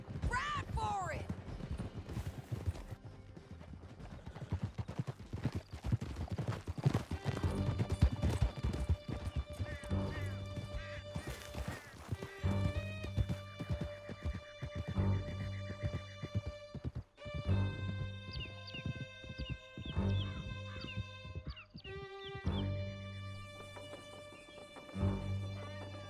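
Horses gallop in Red Dead Redemption 2, and the hooves clip-clop steadily over a canyon ride. A musical score and voices sit on top of them, with occasional neighs.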